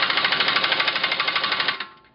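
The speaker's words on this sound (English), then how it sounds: "I'm going to take my impact wrench and just kind of torque on it a little bit" An impact wrench hammers on an Allen bolt on a 2003 Audi A4 axle: a loud, close, fast rattling burst of even repeated impacts lasting nearly two seconds before cutting off.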